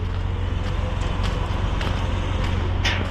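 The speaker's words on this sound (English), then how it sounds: "we got a semi idling next to me" A semi truck idles close by on a roadside, a steady low engine rumble with even, throbbing low tones running throughout, loud and constant with no voices.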